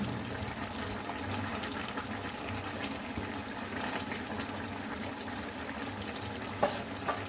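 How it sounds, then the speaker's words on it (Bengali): Sugar and ghee are stirred into a jackfruit and prawn curry cooking in a pan. A steady low sizzle and a soft stirring scrape run continuously, with a couple of small clinks near the end and a tonal hum in the background. "দিয়ে এগুলোকে ভালো করে একটু মিশিয়ে নেব"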